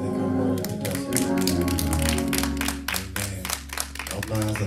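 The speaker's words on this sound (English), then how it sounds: "Clap your hands." Church congregation at a Sunday service clapping their hands, a loud rhythmic run of claps over a sustained low musical tone, with no speech on top.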